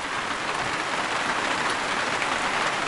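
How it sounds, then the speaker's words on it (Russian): Steady rain falls during a sun shower at a camp beside a wooden shelter stacked with dry firewood, a dense even patter and hiss that holds at one level throughout with no voices. "Грибной дождь, одним словом."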